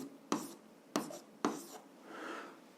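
A pen writes seventh-grade algebra notes, three sharp taps of strokes about half a second apart followed by a soft scratching drag.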